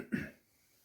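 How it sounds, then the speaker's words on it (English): A single short, low throat clearing close by, then quiet. "have to keep clearing my throat, I apologize"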